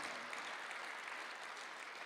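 A church congregation claps together during a Sunday afternoon worship service in Korea, giving a steady, dense burst of applause that fills the room with no talk over it.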